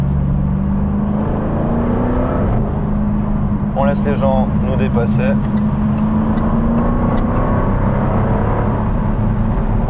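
A supercar cruises on a German autobahn in dry weather with light traffic, its steady engine drone and road roar continuous throughout, while someone talks over it inside the cabin.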